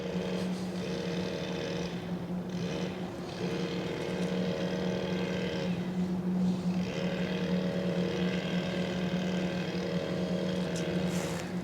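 A motorboat engine drones steadily at middle distance, its pitch wavering slightly as it runs, with no voices over it.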